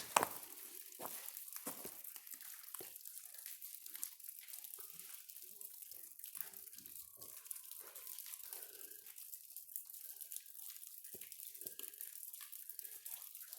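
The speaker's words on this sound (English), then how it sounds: "Look at the water just coming off this rocks here." Water dripping and trickling steadily off rocks in the echoing abandoned Coburn Tunnel, with scattered splashes and drops landing close by.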